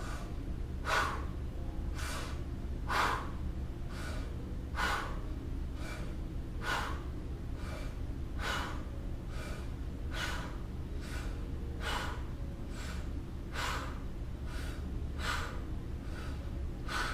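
A rapid yogilates breathing exercise: forceful breaths, close and clear, repeat at a quick, even pace, about twenty sharp bursts in steady rhythm with no talking.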